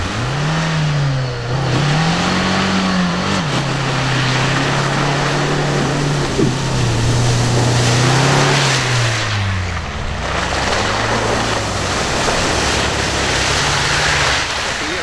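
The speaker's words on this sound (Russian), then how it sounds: "Да, ховер идет. По прямее немного попал. Так, все, проезжает." A Haval Hover SUV engine revs and drones steadily as it drives through boggy mud off-road, the pitch rising and falling with throttle over fifteen seconds, loud and close with splashing wash around it.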